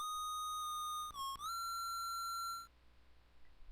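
A steady electronic whistle tone from Proto Man in the Mega Man 5 video game holds for over two seconds, dipping briefly mid-phrase before rising again, then cutting off into quiet.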